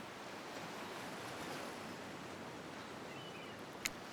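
Ocean waves washing on a beach in the dating sim game Hooked on You, a soft continuous surf wash with wind-like hiss, steady and fairly faint, with one tiny click near the end.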